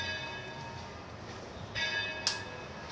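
Church bells ring in a bell concert with alternating and unison swinging, their sustained tonal hum faint and distant, with two brighter strikes near the end.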